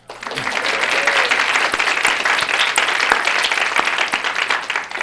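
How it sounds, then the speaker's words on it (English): Steady applause from the audience at a medical school class awards ceremony, sustained and fairly loud for the full stretch, dense clapping with no talk over it. "You can clap."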